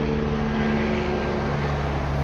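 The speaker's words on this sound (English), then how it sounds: "It's a helicopter" An aircraft engine drones loud and steady overhead, a continuous low roar with a tonal hum and no talking, as a helicopter passes.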